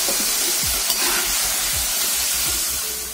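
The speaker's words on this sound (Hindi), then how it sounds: "आप देख सकते हैं फ्रेंच फ्राई बिल्कुल अच्छी तरह से फ्राई हो गया है" French fries fry in hot oil with a dense, continuous, loud sizzle and bubbling, plus a few low clunks of stirring, and no voices.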